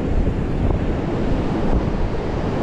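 Ocean surf rolling onto the beach at Valeria del Mar on a day the flag marks the sea as dangerous, a steady loud roar of breaking waves with wind buffeting the microphone throughout.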